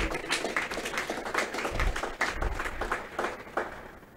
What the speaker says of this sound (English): Can we give Jesus a big clap offering?